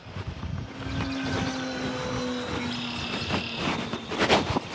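An E-flite P-51D Mustang 1.5 m RC model plane flies overhead with a steady, whining electric motor drone that shifts in pitch as it passes, heard alone outdoors with faint insect-like chirps.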